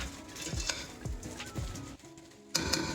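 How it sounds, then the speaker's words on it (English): Tomatoes sizzle and fry in a curry pot for broad beans, with a steady crackle broken by a few scraping stirs of a utensil against the pot, close and fairly loud with no talking. "Just let it fry, let the tomatoes get cooked."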